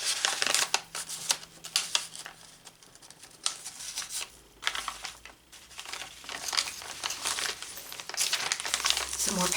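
Pattern tissue paper in a vintage sewing journal crinkles and rustles in repeated close bursts as pages are handled, with a voice talking quietly underneath at times.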